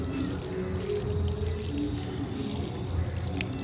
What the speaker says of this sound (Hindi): पानी डालो पानी यार